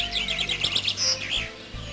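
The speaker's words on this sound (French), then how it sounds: "les chants des oiseaux résonnent de tous côtés" Several birds sing and chirp in a garden, bright repeated high notes overlapping in quick phrases, fairly close and lively against a low background hum.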